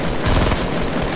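Video game gunfire, a dense rapid burst of automatic shots, loud and close, filling a brief moment with no talk.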